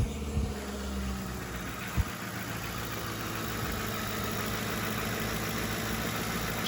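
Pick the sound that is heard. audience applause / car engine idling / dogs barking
car engine idling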